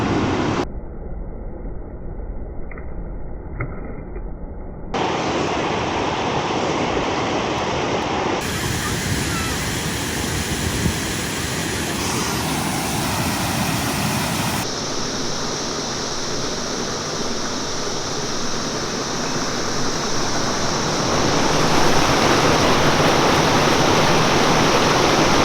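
Water rushing steadily over a small spillway, a loud, continuous broadband wash with a few abrupt shifts in character, growing slightly louder toward the end, with no voices.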